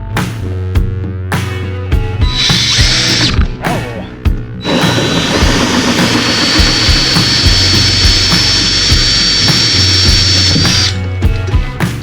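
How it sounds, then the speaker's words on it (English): A power drill fitted with a 2-inch hole saw cuts through material inside a dump truck cab, with a loud whining grind in two bursts, a short one and then a sustained cut, close up. "we're going to drill that out with my 2-inch saw"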